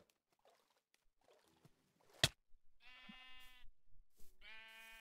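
Sheep in a video game bleat twice, clear, drawn-out and fairly close, after a sharp click and some faint rustling movement.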